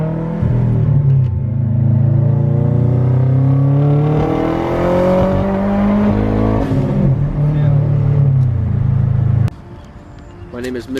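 A straight-piped 2011 Subaru WRX STI sedan revs loudly up close, its raw exhaust note climbing and holding before cutting off abruptly near the end.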